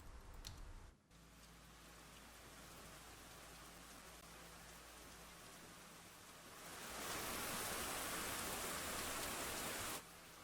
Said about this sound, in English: the most important thing you need to have on your lo-fi track is some rain